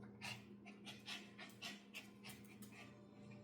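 A dog pants rapidly and faintly while chasing the shadow of a bee on the floor, soft rhythmic breaths over a low steady background hum.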